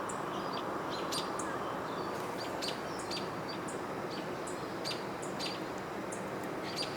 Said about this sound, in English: Beautiful young hawk.